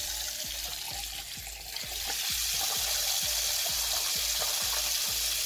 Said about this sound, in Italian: Andiamo ad aprire il miscelatore.